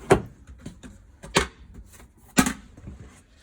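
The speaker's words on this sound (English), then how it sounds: "Slider door." A sliding bathroom door in an Eagle 29.5BHDS travel trailer, giving three separate sharp knocks and rattles as it is moved and latched, close and fairly loud with no talking.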